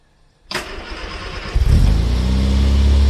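A rare barn-find Riley Kestrel car is brought back to life: after a short starter crank the engine catches, then it is revved and settles into a loud, steady running roar close by.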